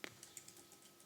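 Someone types on a computer keyboard: a quick, quiet run of about eight to ten keystroke clicks, close to the mic with nothing else over them.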